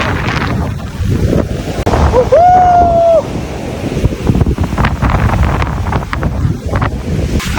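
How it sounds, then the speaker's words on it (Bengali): Wind buffets the microphone at Kalapathar beach on Havelock Island, with waves washing in under a loud, continuous roar, broken once by a brief whistling tone. "finally we are on Kalapatthar beach, Havelock island"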